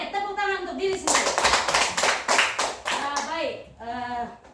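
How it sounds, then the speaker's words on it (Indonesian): Audience at a school gathering bursting into a few seconds of dense hand clapping with rhythmic bursts, framed by a speaker talking before and after. "Oke, tepuk tangan untuk diri sendiri."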